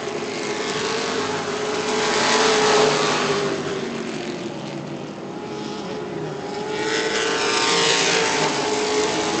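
Sportsman race cars roar around a track, their engines droning loud and continuous, swelling as the pack passes close and easing slightly between passes.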